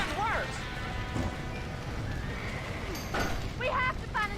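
Horse whinnying from a burning building in the video game Red Dead Redemption, several rising-and-falling neighs near and loud over crackling fire noise, with shouting voices in between.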